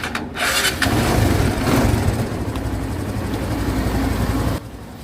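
A second-hand Kawasaki Barako motorcycle engine runs steadily at idle, a loud, continuous chugging drone close by for several seconds before cutting off abruptly near the end.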